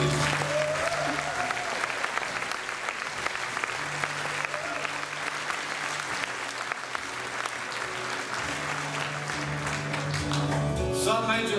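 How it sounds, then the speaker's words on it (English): Concert audience applauding a crew member introduced from the stage, steady crowd clapping with a voice speaking over it and a low sustained tone underneath. "Give him a round of applause, please."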